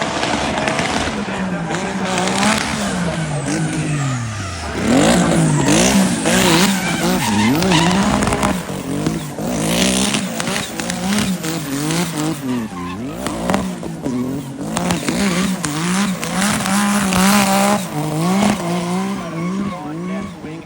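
An all-electric rally car on XComp tires slides and skids on a rally stage at the Goodwood Festival of Speed, with long wavering tire squeals and whining motor sweeps, loud and close, continuing for about twenty seconds.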